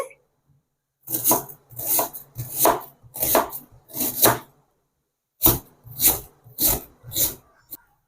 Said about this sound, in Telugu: ఒక రెండు ఉల్లిపాయలు కూడా కట్ చేసుకుందామండి